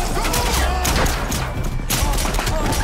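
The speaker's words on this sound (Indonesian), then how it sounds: "baku tembak pun kembali terjadi" Gunfire exchange in a film shootout, a dense barrage of loud shots and crashing impacts in rapid succession, filling the scene with little pause.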